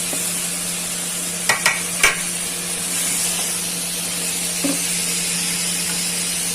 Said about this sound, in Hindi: अब हम बनाना डालेंगे, स्लाइस बनाना